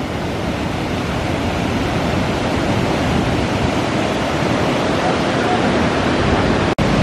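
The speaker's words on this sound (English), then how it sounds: "This waterfall is awesome." A waterfall in the Porcupine Mountains of Michigan's Upper Peninsula pours with a loud, steady broadband rush, heard close and unbroken except for a brief click near the end.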